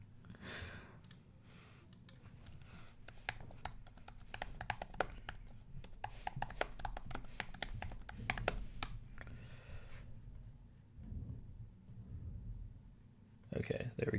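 Computer keyboard typing on a desktop setup, a steady run of quick, close plastic key clicks for about ten seconds, then a pause and a brief burst again at the end, with some faint breathing.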